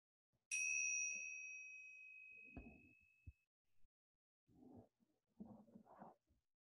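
A single bright meditation bell strikes and rings out, slowly fading over a couple of seconds, followed by quiet with a few soft low thumps and murmurs.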